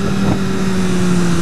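A 2014 BMW S1000R motorcycle engine revving at 40% throttle, heard as a loud steady engine drone with a strong tone and wind rush, held for a moment on the road.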